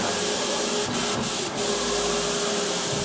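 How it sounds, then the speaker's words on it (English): A vinyl plotter cuts pre-cut paint protection film parts for a 2015 McLaren 650S, giving a loud continuous mechanical hiss and whir with a few quick dips where the head shifts. "you can set them off printing on the plotter"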